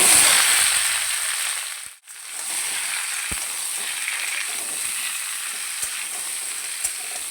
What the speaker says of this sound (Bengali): আমটা তেলের মধ্যে দিয়ে একটু ভালো করে নাড়াচাড়া করে নিয়েছি